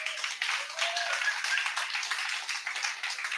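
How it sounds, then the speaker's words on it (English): Audience applause at a Swim-In For Joy gathering, a thin, fairly faint patter of clapping from a modest crowd, continuous across the moment with a faint tonal sound near the start. "let me get a round of applause about that"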